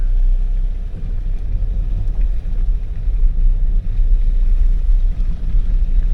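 A car crawls and slides along an icy road in Kazakhstan's coldest town. A low, uneven engine rumble mixes with wind buffeting on the microphone, steady and close, with nobody speaking.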